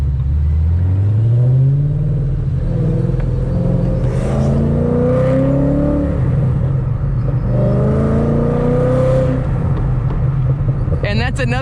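Shelby GT500 engine pulling hard at full throttle, its rising exhaust note sweeping upward through repeated gear changes, loud and close from inside the car, with a voice talking over it.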